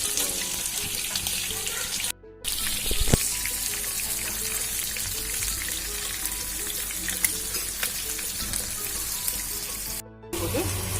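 Anchovies fry in hot oil as a dense, steady crackling sizzle that runs close and loud throughout, broken only by two brief cuts, with no talking.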